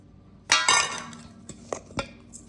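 Clinks and scrapes of a utensil against a bowl as seasonings like sazon, garlic powder, onion powder and seasoning salt are worked into walnut meat, a few sharp close knocks with quiet pauses between.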